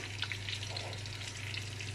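Breaded fish reheating in its own butter in a pan, a faint, even sizzle with small crackles, close and steady throughout.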